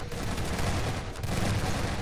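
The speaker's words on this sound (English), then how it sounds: "That shotgun spam!" Rapid, repeated shotgun blasts in the Lambda Wars strategy game, dense and continuous with no clear gaps between shots, loud and close throughout.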